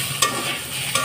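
Vegetables for a vegetarian Ekadashi dish fry in a pan with a constant close sizzle. Two quick scraping stirs of a spatula break through it.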